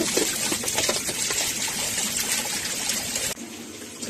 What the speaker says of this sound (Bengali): কিমাটা এখন সুন্দর করে ধুয়ে নিবে।